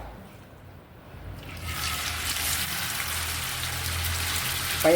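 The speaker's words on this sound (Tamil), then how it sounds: "எண்ணெய் சூடாயிடுச்சு. இப்போ நம்ம சிக்கனை சேர்த்துக்கிடலாம்." Chicken pieces drop into hot groundnut oil for chicken fried rice; after a quiet second or so a loud, even frying hiss swells up and holds steadily, close by.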